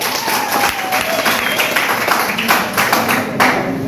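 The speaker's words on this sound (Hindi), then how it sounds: "जोरदार ताली" A crowd gives loud, sustained applause, with many hands clapping together in a dense, steady roar of claps for several seconds.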